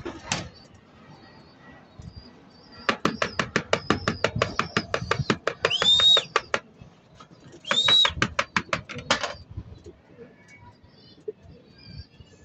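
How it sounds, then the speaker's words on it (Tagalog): Birds arrive to be let in and fed, giving two bursts of fast rhythmic fluttering pulses with a thin whistle-like tone, near and fairly loud between quieter stretches. "Ayan na sila mga kaibon, no? Papasukin natin para mapatuka."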